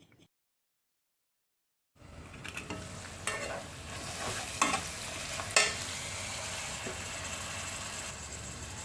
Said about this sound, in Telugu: ఉల్లిపాయలు బాగా వేగిపోయి కదండి